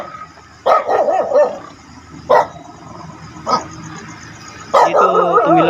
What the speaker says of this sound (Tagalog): May mga aso pa dito mga ito.